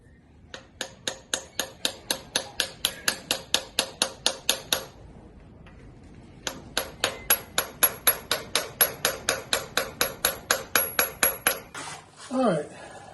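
A hammer drives a pilot bushing into an engine crankshaft on a gasser project car with rapid, evenly spaced metallic taps. A short pause splits two long bursts, and a brief scrape follows the last strikes.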